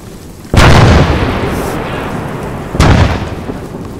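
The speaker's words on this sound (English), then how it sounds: "Mortars, mortars, mortars, mortars." Two heavy mortar explosions in the video game ArmA 3, each a sudden loud boom with a long rumbling tail, the second about two seconds after the first.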